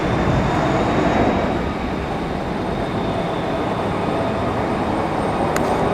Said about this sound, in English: Great sounding departure for this A321.